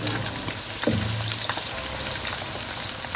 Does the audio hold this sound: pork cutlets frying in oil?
yes